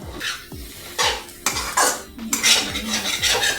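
Metal utensil scraping and clanking in a pot as koldil is stirred with masala and chopped tomatoes, repeated close strokes roughly every half second, with no talking.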